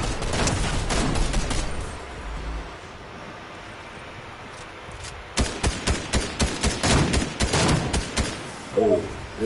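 Gunfire in the video game Fortnite, with a burst of rapid shots at the start and then after a lull a dense string of loud close shots, ending with a brief voice.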